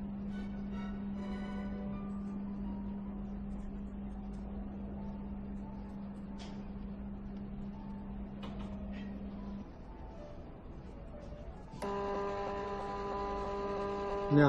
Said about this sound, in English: the test result will be automatically printed